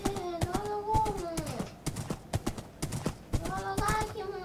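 Horse hooves clip-clop in Minecraft, a quick irregular tapping of steps with bursts of the animal's whinny-like calls, near and fairly loud, while children's voices chatter in Greek alongside.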